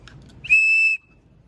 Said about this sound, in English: And we also have on this side a whistle.